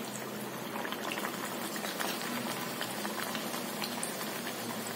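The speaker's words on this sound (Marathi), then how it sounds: "थोडंसं तेल तापू द्यायचं आणि मग त्यामध्ये पुरी सोडायची" Jowar flour puri deep frying in hot oil, a continuous soft bubbling sizzle that stays even and fairly faint throughout.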